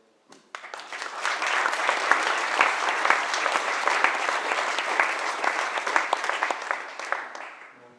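Enthusiastic applause from a sizable crowd at a wedding speech, starting abruptly, holding steady and dense for several seconds, then tapering off.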